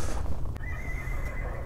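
A four-year-old horse gives a clear whinny, with a faint clip-clop of hooves underneath, brief and moderately close.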